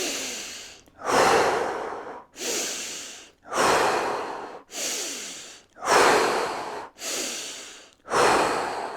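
Deep, slow breaths drawn in and let out during a fascial release and organ reset exercise: seven long airy inhales and exhales in a steady rhythm, close and loud, with no talking.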